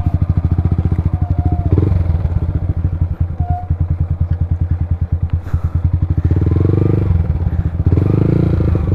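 A motorcycle engine putters steadily close by, its low rhythmic chugging rising and falling as it revs, with some clatter over rough ground.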